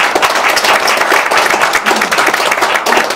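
Energetic applause from a lecture audience, dense rapid clapping from many hands at close range, loud and sustained throughout without pause or voices.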